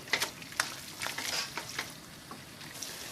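Ground beef with oregano browns in a hot pan, giving a soft, crackling sizzle broken by a few sharp clicks and scrapes of stirring, fairly quiet and close, with no voices.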